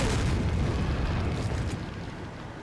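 A rocket launcher blast in the video game Resident Evil 4: a loud, deep rumbling explosion that fills the air and slowly fades over about two and a half seconds.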